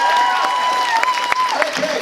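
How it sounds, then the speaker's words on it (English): Audience applause at an anime convention panel, a short burst of clapping and crowd noise under a sustained tone and some voices, fairly close and loud. "give a big round of applause, everybody"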